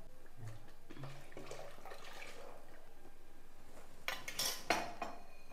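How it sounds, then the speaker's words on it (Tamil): Chicken-boiling stock is swished around a mixer jar to rinse it for a country chicken curry, then poured out. Faint sloshing and a soft clink come first, then a louder close splashing pour with jar clatter near the end. "சிக்கன் வேக வச்ச தண்ணியவே நம்ம மிக்சியில் சேர்த்து அலசிட்டு ஊற்றிடலாம்"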